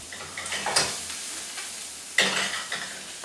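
Jalapeno boat filling with butter, salt and pepper cooking in a pan, a steady close sizzle broken by two louder scraping stirs of a utensil, no one talking.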